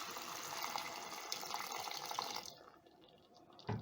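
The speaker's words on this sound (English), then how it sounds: "And then I'm going to add in some water." Water pours into a pot of beef stew with a continuous splashing rush that fades out near the end, followed by a brief clink.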